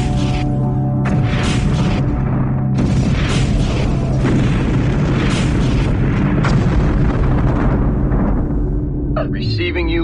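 Main battery weapons fire in a Homeworld: Cataclysm space battle, booming heavily and continuously like artillery amid dense rumbling combat noise, with radio-style voices talking over it.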